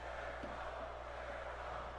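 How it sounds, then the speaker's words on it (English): A crowd in a wrestling video game, during a US title tournament semifinal match on Smackdown, cheers and chants as a steady, distant roar with no clear breaks. "now they're cheering for Jericho"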